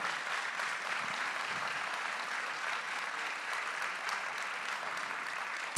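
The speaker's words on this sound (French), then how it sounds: "On peut l'applaudir bien fort." An audience at a mayor's New Year ceremony in Fresnes-sur-Escaut claps continuously, a dense even patter of applause that holds steady throughout, ending with a sudden loud bump.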